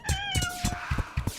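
A cat meows in a rapid series of loud, close, whining calls, about five in quick succession with no talk over them.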